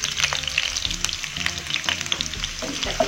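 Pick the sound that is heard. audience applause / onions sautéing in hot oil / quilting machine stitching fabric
onions sautéing in hot oil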